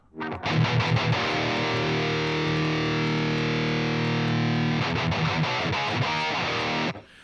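Electric guitar run through a full-on distorted metal preset on an amp modeler, loud and heavy with sustained saturated chords ringing continuously for about six seconds before cutting off.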